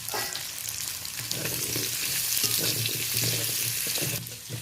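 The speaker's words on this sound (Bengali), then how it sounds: "গাজর আর আলুটা শক্ত সবজি ওই জন্য একটু আগে থেকে দিয়ে ভেজে নিচ্ছি" Hard vegetables, carrot and potato pieces, fry in oil in a wok, giving a continuous close sizzle with scraping stirs and crackles and no voices over it.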